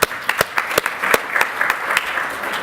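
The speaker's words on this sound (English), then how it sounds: "I think you should give yourself a round of applause" An audience at a 2015 DUG conference workshop session bursts into applause, a dense, steady clatter of many hands with sharper individual claps poking through, filling the room close by with no talk over it.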